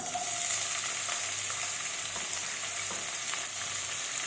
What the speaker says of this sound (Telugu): ఆయిల్ వేడైంది ఇక స్టవ్ పెద్దగా పెడుతున్నా ఫస్ట్ ఉల్లిగడ్డ వేస్తున్నా